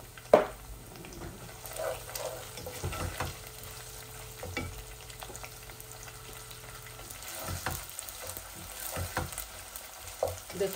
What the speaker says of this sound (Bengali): একটু ভেজে ফেলি, একটু হলুদ দিব